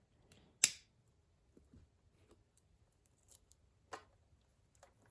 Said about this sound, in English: let me cut off this tie on here